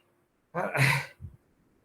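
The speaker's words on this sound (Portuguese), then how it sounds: "quis espirrar e não saiu" A stifled, aborted sneeze from a lecturer during an evening law class: one short, breathy burst that catches and fades, then a brief weaker huff. It sounds close and stands alone, with no talk over it.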